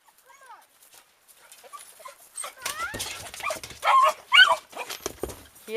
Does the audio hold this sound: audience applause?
no